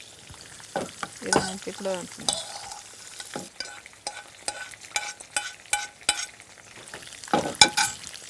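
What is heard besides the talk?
stirring and roasting spices in a pan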